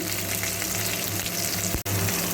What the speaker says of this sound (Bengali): এবার এই তেলের মধ্যে দিয়ে দিচ্ছি কেটে রাখা আমগুলো কি দিয়ে আমি ভালো করে নাড়াচাড়া করে নেব